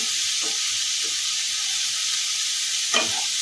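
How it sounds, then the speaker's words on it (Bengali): Broccoli florets sautéing in a pan for vegetable soup, a soft continuous sizzle with a few brief stirring scrapes and one sharper clack near the end, no talking. "আবারও এক মিনিট মতো নেড়ে নেব এক মিনিট ভালো করে নেড়ে নিয়েছি ব্রোকলিটা"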